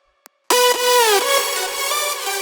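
An individual synth lead from a progressive house track enters after a brief click, a bright, harmonic-rich sustained tone gliding between pitches with a falling slide, loud and alone with no talk.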